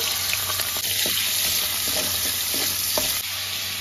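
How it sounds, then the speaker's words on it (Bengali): Prawns frying in a pan for egg-wrapped mixed fried rice give a steady, close, hissing sizzle, broken by a few soft scrapes and taps as they are stirred. "এবার চিংড়ি মাছটা ভেজে নেব"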